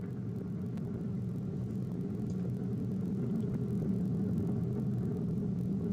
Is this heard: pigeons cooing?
no